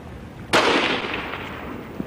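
A single sharp rifle shot fired at a seal during a hunt on the sea ice, a loud crack that decays over a second of open-air echo.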